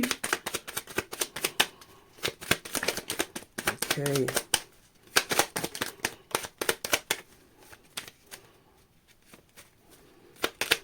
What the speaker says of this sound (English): Last shuffle, just to make sure.